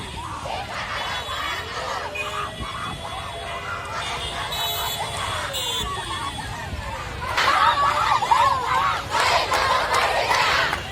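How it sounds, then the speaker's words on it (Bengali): College students at a protest on a Dhaka campus, a crowd chanting slogans in rising and falling waves that swell louder toward the end, voices blending into a continuous roar. "কলেজ চত্বরে শিক্ষার্থীরা জড়ো হয়ে বিভিন্ন স্লোগান দিতে থাকেন"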